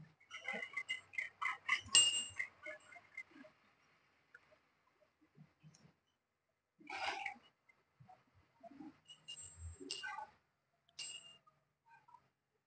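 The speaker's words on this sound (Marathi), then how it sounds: "फ्रीजचं डोअर जेव्हा आपण ओपन करतो तेव्हा हे ही बेल जी आहे अशी वाजते" A small bell fitted to a fridge door chiming in short bursts of bright ringing as the door opens, separated by quiet pauses with faint clinks.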